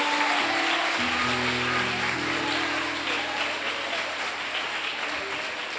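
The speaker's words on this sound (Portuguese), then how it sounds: "Aplaude a Jesus aí, aplaude, aplaude," A church congregation claps together in a steady wash of applause, with a sustained musical tone underneath and some voices blended in, gradually easing in volume.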